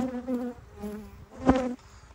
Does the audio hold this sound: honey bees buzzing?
yes